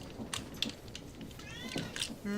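A pet cat meows several times in a room, the calls mixed with a person talking softly to it. Brief rising harmonic cries stand out over the background.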